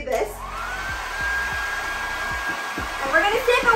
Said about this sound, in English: I saw on TikTok that these people have this hack to make this makeshift dryer